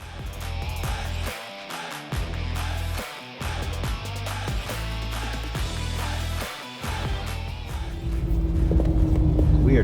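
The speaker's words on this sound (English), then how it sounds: "We are driving along," A 2023 or 2024 GMC Canyon AT4X pickup on the way to an off-road event, with a steady engine and road rumble from inside the cab that swells louder near the end.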